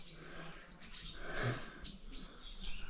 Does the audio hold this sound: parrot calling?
yes